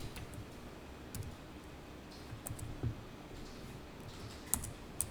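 Computer keyboard keys typed at a quiet, steady pace while accounting entries are entered, with a few sharper isolated clicks standing out and no talking.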